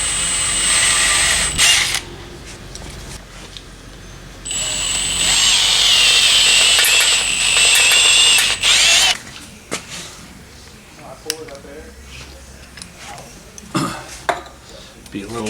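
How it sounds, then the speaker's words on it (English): A power drill whines loudly in two long bursts, grinding harshly through a Ford 2.8 V6 Cologne engine block into the oil gallery with a 5/16 bit, with clinking and mechanical clatter between and after. "Be a little less vicious on my drill bit here."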